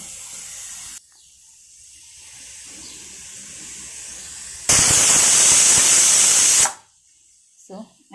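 A steel pressure cooker cooking tomato dal lets out a loud, steady hiss of escaping steam for about two seconds, standing well above the quieter kitchen background and ending abruptly.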